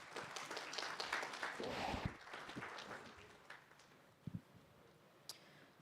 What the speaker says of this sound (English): Kindly give them an applause.